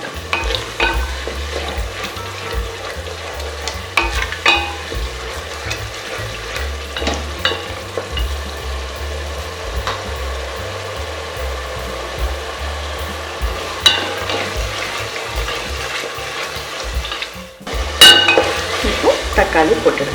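Onion, ginger, garlic and tomato frying in a pan for South Indian paya, a loud continuous sizzle with frequent scraping and clinking stirs, brief quieter moment before the sizzle surges again.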